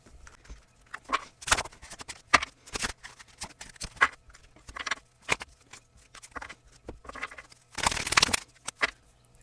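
Tarot cards riffle and shuffle in short rapid bursts with soft papery slaps between them, close and fairly quiet, with no talking.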